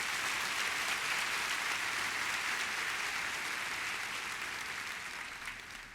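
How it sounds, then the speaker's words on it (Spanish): A church congregation bursts into loud, sustained applause after a sermon, dense clapping holding steady before tapering off slightly at the end. "¿Cuántos pueden darle un fuerte aplauso al Señor Jesús?"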